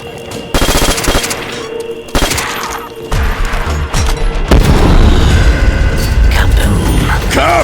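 An explosion in World at War Zombies, Shi No Numa split-screen play. Loud gunfire and crashing booms build into a heavy, sustained rumbling blast.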